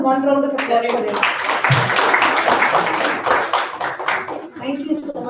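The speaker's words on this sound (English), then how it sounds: "One round of applause for them." An audience at a national student innovation challenge session claps in a brief burst of applause, mixed with voices talking over it.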